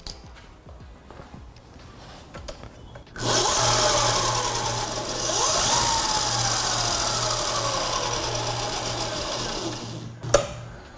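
A Surron electric motor fitted in a Postman Pat van powers up with a sudden steady electric whine and hum that rises and sweeps in pitch, runs for about seven seconds, then stops with a click.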